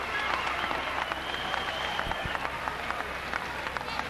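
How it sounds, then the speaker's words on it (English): Applause and cheering from a crowd at a boxing match fill the arena at the end of a round, steady clapping with scattered shouts for several seconds at a moderate distance. "Crowd really loving this fight."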